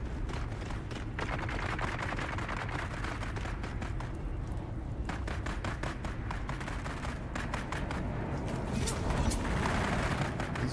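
Rapid gunfire from a firefight in the video game Dune Awakening, a steady stream of sharp shots and bursts at moderate distance that runs the whole time under low background noise, without talk.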